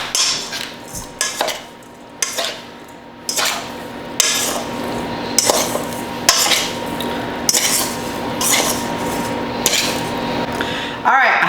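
A fork tossing tuna poke in a bowl, repeated clinking scrapes against the bowl in a steady rhythm, close and fairly loud with no talking.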